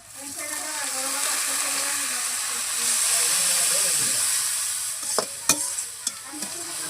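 Onions fry in oil in a pan over a clay stove, giving a steady, close sizzling hiss that swells and fades. A faint voice murmurs early on, and a few sharp clanks of stirring come near the end.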